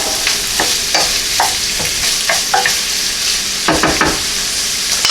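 Sausage and vegetables sauté in a hot pan with a steady, close sizzle, broken by occasional scraping stirs of a utensil, and no voices.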